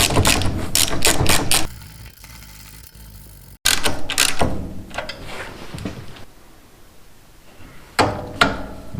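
A ratchet tightens bolts on a Troy-Bilt chipper vac in quick, loud bursts of clicking pawl strokes, separated by short pauses and lighter handling noise, no speech.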